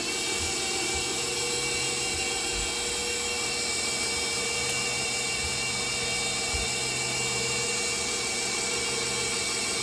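An electric mixer whirs steadily at a high, constant pitch while beating butter cake batter for white velvet cupcakes, loud and unbroken throughout with no talking.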